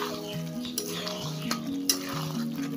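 Chicken being stirred and sautéed in a pan for Bengali chicken kosha makes a low sizzle with a few spoon scrapes and clinks. A tonal hum runs underneath throughout.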